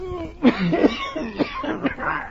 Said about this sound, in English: Why, is the moisture perhaps too much for your cough?